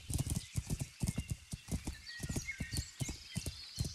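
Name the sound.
horse hooves clip-clopping in video game Kingdom Come Deliverance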